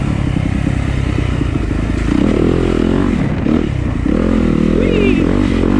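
A Yamaha YZ250FX four-stroke dirt bike engine revs hard while being ridden, loud and close, its pitch climbing and dropping with the throttle, with scraping and clattering from the terrain.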